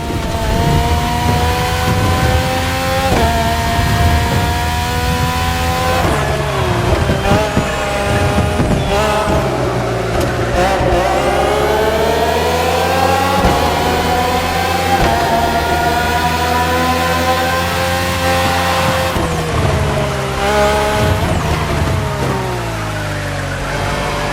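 Red Bull Formula 1 cars (RB13, RB14, RB18 and RB20, with Renault and Honda engines) scream in The Crew Motorfest racing game, a loud continuous high-pitched engine wail rising and falling through gear shifts, alongside game music.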